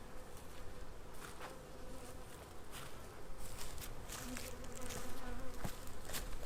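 Honeybees buzz busily at hives in an apiary, a continuous close hum with scattered knocks and rustles of handling, growing a little louder toward the end.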